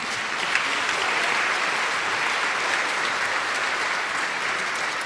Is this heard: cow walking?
no